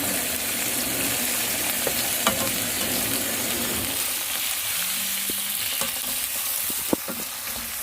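Garlic butter shrimp fries in a pan while being stirred, a continuous close sizzle with scraping and occasional clinks of the utensil against the pan.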